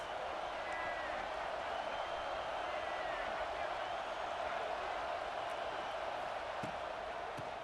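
Crowd noise in NCAA College Football 26: a steady, faint stadium roar holds evenly throughout, with no single cheers standing out.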